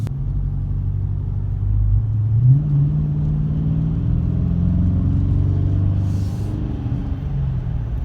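A 2017 Dodge Challenger R/T Plus engine drones low from inside the car, its pitch rising as the transmission kicks down, then holding a steady, rumbling cruise.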